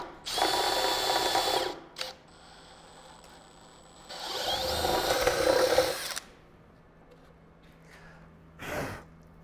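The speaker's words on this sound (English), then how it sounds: "Make sure you're using a sharp bit and it'll avoid some of the splintering." A power drill with a sharp bit bores through a plywood deck. Two long, loud whirring bursts are separated by quiet, then a short final burst follows, all close by.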